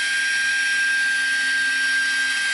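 A Black & Decker leaf blower runs steadily for the whole stretch, giving a loud, continuous whine with a high-pitched tonal hum and a broad airy rush. No one speaks over it.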